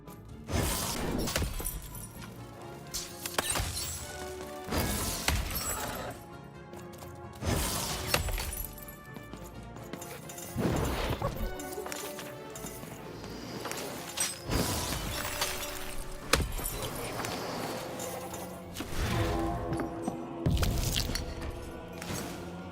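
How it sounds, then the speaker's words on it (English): Repeated heavy smashing and shattering as a bridge is broken apart in the video game Lost in Random, several loud cracking crashes spaced across a continuous musical game soundtrack. "The bridge has been smashed."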